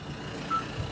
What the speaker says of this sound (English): it keeps beeping. Sorry. That's my watch.